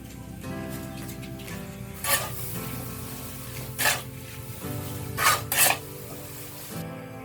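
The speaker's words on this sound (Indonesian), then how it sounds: "Setelah bahan hijau tercampur, kita masukkan sekam padi. Kemudian kita aduk secara merata." A compost mix with rice husks stirred by hand, giving scraping, rasping strokes in a few distinct bursts over a steady background hum, with no talking.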